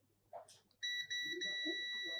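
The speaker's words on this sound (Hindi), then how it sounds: "हमने पहला रजिस्टर बजर पे बीप कराया, ये बीप दे रहा है" Continuity buzzer of a multimeter beeps while its probes test a resistor on a phone circuit board: a steady high electronic tone starts partway in and holds, with short voice and handling noise before it.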